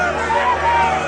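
A crowd crying out in a dramatized Bible reading, a dense murmuring babble of many voices that holds steady through the moment without any single voice standing out.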